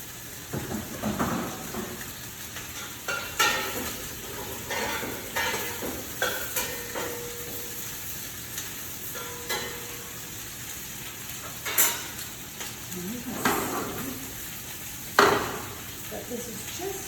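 Cauliflower curry sizzling in a saute pan, a steady frying hiss broken by clattering stirs and scrapes of a utensil, with occasional speech over it.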